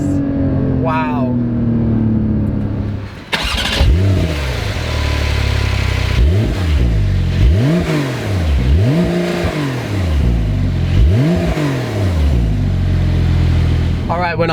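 A 2020 Porsche 911 of the 992 generation, its straight-six engine loud and close, revving repeatedly toward 7,000 RPM in a series of rising and falling sweeps after a brief voice at the start.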